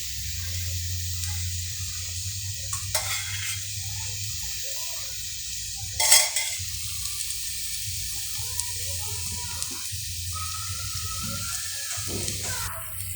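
Oil heating in a pan for tempering spices for thuvaiyal gives a steady, soft sizzle, broken by a brief louder burst midway and a few faint pops.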